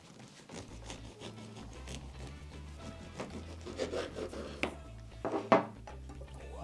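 A knife sawing into a loaf of vegan gluten-free bread, soft repeated scraping strokes with a crumbly crackle and a sharper crunch near the end, close and fairly quiet, without talking.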